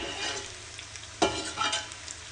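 Serrano peppers frying in a pan, a close crackling sizzle with a sharp stirring scrape midway and a few softer scrapes after.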